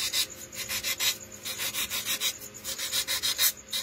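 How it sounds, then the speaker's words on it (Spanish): Hand file rasping at the joint where an added piece meets a sphere, quick rhythmic back-and-forth strokes, close and steady with no talk. "estoy limando aquí en la unión de la pieza adicional con la esfera"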